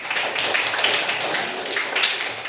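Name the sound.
class clapping hands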